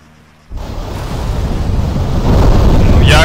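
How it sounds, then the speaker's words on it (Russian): Explosions in a battle royale video game: a sudden loud, rumbling boom kicks in and swells into a sustained roaring blast that grows louder toward the end, with no talk over it. "я услышал взрывы, они прямо передо мной."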